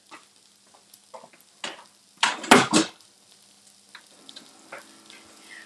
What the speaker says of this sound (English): if you guys can hear, it's sizzling